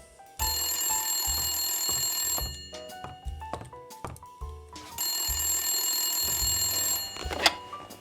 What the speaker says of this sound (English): Dude, answer your phone! Answer the phone.